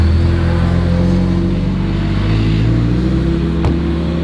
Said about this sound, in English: The sound of this Honda Civic, mate, is so raspy.